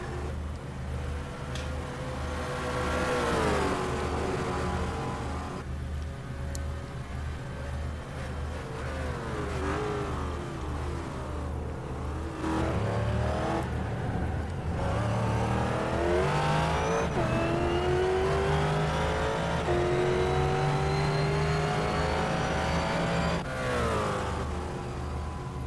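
Race car engines howl around Spa in a sim racing game, a steady near engine note rising and falling through gear changes, with other cars faintly passing over a continuous low drone.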